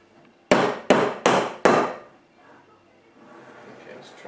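Four sharp, evenly spaced whacks as corks are hammered into bottles of homemade rhubarb wine, loud and close, followed by quieter handling noise.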